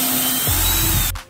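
Power drill driving a screw into the wooden panels of a large box for two Rks804OS subwoofers, a loud close whine that drops into a lower grinding run about halfway through and then cuts off abruptly.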